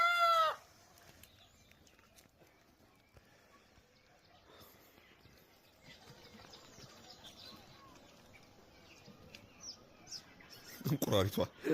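Chickens in an Ethiopian farmyard in the morning make faint clucks and calls against quiet surroundings. A brief loud burst closes the scene.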